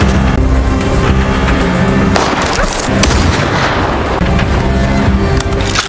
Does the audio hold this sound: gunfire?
yes